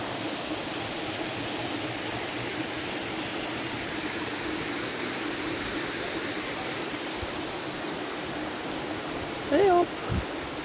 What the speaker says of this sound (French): Et voilà la cascade.